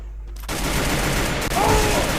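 Gunfire in the battle-royale game Free Fire, a steady dense burst of shots from about half a second on, loud and close, with a faint voice underneath.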